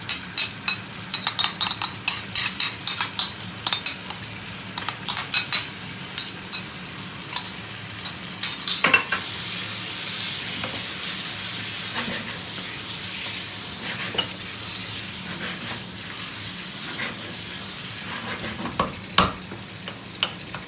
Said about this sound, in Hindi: साथ ही हम अपना दही ऐड कर देंगे, 4 खाने के चम्मच।